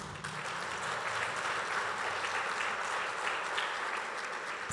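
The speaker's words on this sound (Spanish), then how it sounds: "queremos recibirles con un fuerte aplauso" An audience at a church play performance gives strong applause, a dense, even wash of many hands clapping that continues steadily from start to finish.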